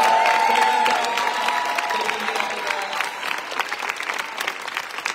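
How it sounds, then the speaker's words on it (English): Applause from a fan meeting audience in Barcelona, honouring the technician crew: a dense, steady wash of many hands clapping, loud at first and slowly easing, with scattered cheers mixed in. "I cannot go off the stage without giving to you a big applause for our amazing technician crew"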